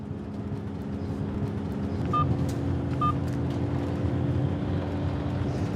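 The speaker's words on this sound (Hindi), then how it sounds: "बेल जा रही है लेकिन उठा नहीं रही वो" Two short electronic beeps of a phone ringback tone from an unanswered call, about a second apart, faint over a steady low engine-like rumble.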